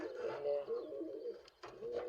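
Pigeons coo softly in short repeated phrases, close by and fairly quiet, over a faint background.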